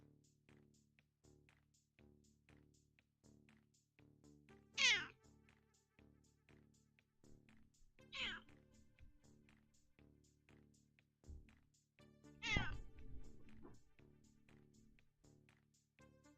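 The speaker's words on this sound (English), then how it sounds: "Meow." A cat meows three times, each cry sharp and separated by several seconds, over a quiet, steady background pulse.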